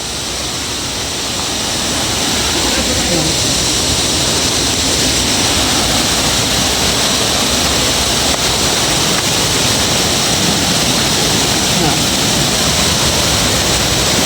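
Water pours steadily down a waterfall on Dinagat Island as a constant, loud, broadband rush that never lets up, heard up close, with voices occasionally present beneath the roar.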